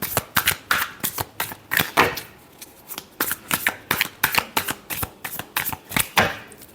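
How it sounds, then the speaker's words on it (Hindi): Tarot cards shuffled by hand in quick bursts, a long run of crisp riffling flutters and soft slaps repeating rhythmically, close and fairly loud with no one talking. "last shuffle"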